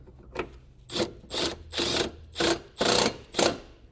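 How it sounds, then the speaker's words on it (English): A ratchet tightening a bolt on a compressor mounting bracket in a 2007-2021 Toyota Tundra, six rhythmic, evenly spaced rasping clicks of the ratchet, close and fairly loud. "Once you have this bracket lined up, you can now fully tighten this bolt."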